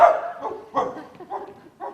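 A dog barks in a series of five or six short, separated woofs, fairly close and moderately loud, with no talking in between.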